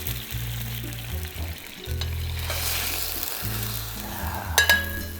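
Meat fries in a hot pan after wine is added, sizzling and crackling steadily with intermittent low rumbles, and a short sharp flare-up near the end.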